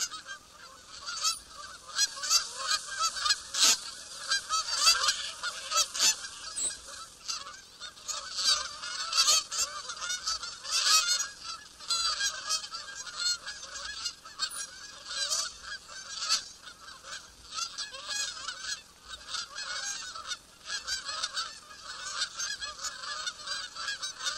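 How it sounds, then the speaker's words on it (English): A flock of wild North American geese honking continuously as they fly overhead in V formation near Lake Mattamuskeet, North Carolina, many overlapping calls with a steady busy chorus, fairly close and loud throughout. "best known of the North American wild geese, honking as they fly overhead in V formation"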